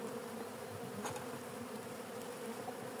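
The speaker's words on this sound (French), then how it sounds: "on voit que c'est rempli d'abeilles" Honey bees buzz steadily inside a hive super with drawn foundation frames, a continuous dense drone at close range with no talk.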